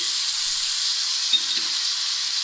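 Salt and red chili powder, including Kashmiri chili, fry in hot oil in a pan for a dam kabab dish, giving a steady close sizzle throughout with a faint stir and a brief crackle partway, no talk.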